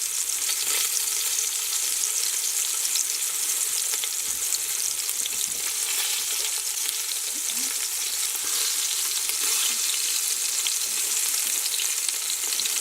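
Beef pieces browning in a hot pan for stew, giving a loud, continuous close-up sizzle and crackle of frying that holds steady with no voices.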